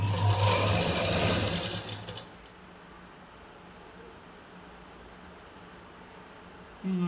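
A sewing machine stitching a blouse lining whirs loudly and steadily for about two seconds, then stops, leaving near-silence until a brief sound returns at the very end.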